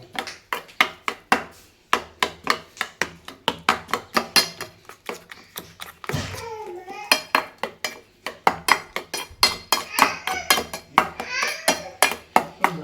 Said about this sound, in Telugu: రైస్ పొడి పొడి చేసుకొని దీంట్లో వేసుకొని మిక్స్ చేసుకోవాలి